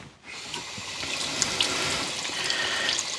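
Water splashes and trickles steadily as it is scooped into a bowl to soak a shaving brush's soap knot, a close, continuous wet rush with small spikes of dripping.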